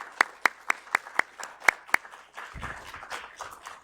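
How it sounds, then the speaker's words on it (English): Conference audience applause: a few sharp, distinct claps close by at an even rhythm, then a softer, denser spread of clapping from the wider room that fades out. "So please, let's give them a round of applause."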